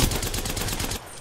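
Rapid automatic fire from the Havoc energy rifle in Apex Legends, a dense burst of shots lasting about a second before cutting off abruptly, loud and close with no talk over it.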